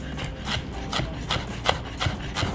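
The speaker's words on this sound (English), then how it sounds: "And I want this ginger very finely chopped." A knife chops ginger finely on a wooden board, making soft, close scraping and tapping strokes in a quick, uneven rhythm.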